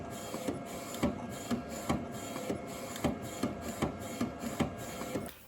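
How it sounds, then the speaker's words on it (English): An edible ink printer printing onto sugar cookies runs steadily, its mechanism whirring with a regular rhythm of clicking passes for several seconds before stopping. "This is our edible printer."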